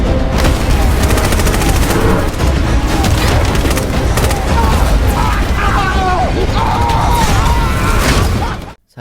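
Film fight against a robot: dense, loud gunfire and booming explosions pound on without a break for several seconds, with mechanical clanks mixed in, then cut off abruptly at the end.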